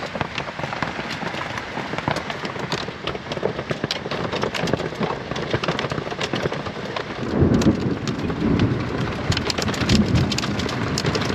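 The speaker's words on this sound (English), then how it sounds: "It does sound like hail, doesn't it?" Dense, steady patter of hail drumming on a surface at Mount Buffalo, Australia, with a low rolling rumble of thunder building toward the end.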